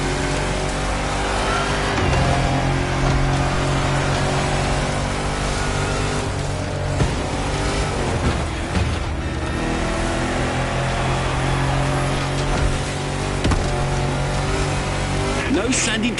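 A 4x4 car engine roars steadily while racing through a Hawaiian jungle in the video game The Crew Motorfest, loud and continuous, with a voice speaking over the engine throughout.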